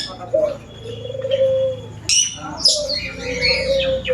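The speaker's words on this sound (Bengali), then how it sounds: "আর এই হচ্ছে কাকাতুয়া" A cockatoo calls at a zoo, its harsh, raspy screeches and squawks ringing out close by in several bursts over soft background bird chatter.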